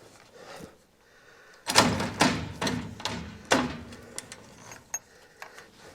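An impact wrench hammers at rusted nuts on a 1952 Chevy Styleline Deluxe, firing several loud, rattling bursts in quick succession after a quiet start, then fading to scattered clanks.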